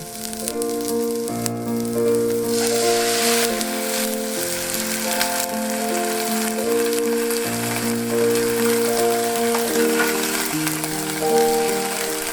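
Vinegar hits a hot pot of corned beef, raising a loud, steady sizzle that runs the whole time beneath prominent sustained music tones, with no speech.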